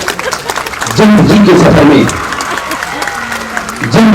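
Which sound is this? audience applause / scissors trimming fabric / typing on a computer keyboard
audience applause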